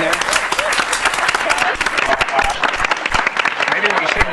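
Dense, loud applause from a theatre audience fills the whole stretch, steady clapping with crowd noise, at a vaudeville-style stage show during a nail-in-nose stunt.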